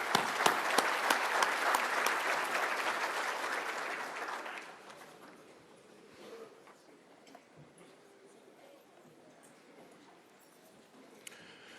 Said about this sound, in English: How about a round of applause for our singer,